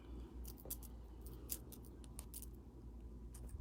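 Jewelry wire for a wire-wrapped bubble pendant is snipped with cutters, giving a series of faint, sharp clicks scattered irregularly over a quiet background.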